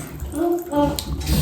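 Water runs from a tap into a bathtub, a gurgling, splashing flow heard under a child's and adults' voices speaking nearby.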